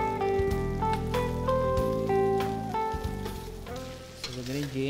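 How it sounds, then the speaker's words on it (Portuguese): Fresh sausage fries with other ingredients for baião de dois, giving a crackling sizzle that sits under tonal background music. "Agora vou colocar a linguiça fresca também junto com esses"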